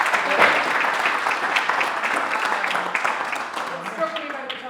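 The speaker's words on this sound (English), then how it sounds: "I'm going to ask for a round of applause first" An audience at a local history talk about St Brigid's Cavan connection breaks into dense, steady applause that holds loud at first and then slowly tapers over several seconds.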